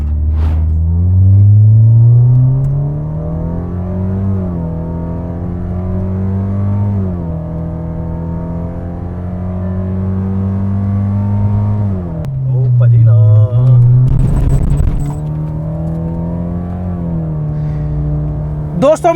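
Toyota car with a custom exhaust pulling away in first gear in S mode, a loud close engine drone rising and dipping in pitch across repeated revs, with a burst of noise near the end and a voice talking over it.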